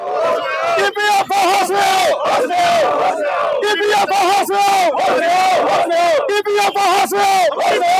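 A crowd at a pension protest sit-in chants slogans in loud, rhythmic call-and-response bursts, voices repeating steadily and close by throughout.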